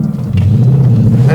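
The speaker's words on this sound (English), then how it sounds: "But it revs up nicely." Synthetic-fuel Ford Mustang V8 revving up smoothly, a loud close deep engine drone that builds steadily, heard alone.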